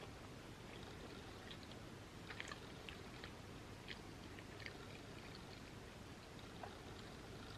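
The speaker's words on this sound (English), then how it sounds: "I have to take my time and chew the food." Quiet close-up chewing of vegan mac and cheese and loaded tater tots, soft repeated wet bites and mouth clicks scattered over a faint steady background hiss, with no talking.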